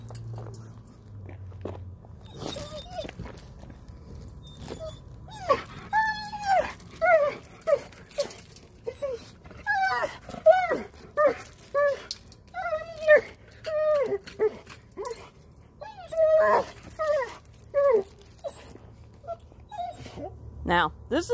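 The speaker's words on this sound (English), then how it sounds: "she sounds like a wounded dog dying" A dog whimpers and moans in a long series of high, wavering cries from down in a storm drain, close and insistent, with brief pauses between each plaintive call.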